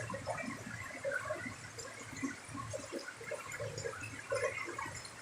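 Water trickling and splashing in an echoing cave, gurgles and drips coming in uneven bursts near a PVC pipe, moderately close and fairly quiet, no talking.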